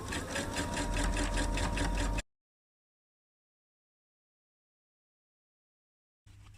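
A sewing machine runs steadily for about two seconds, stitching the welt on a pair of Closet Core Sasha trousers, then falls silent before a short burst of motor noise returns at the end.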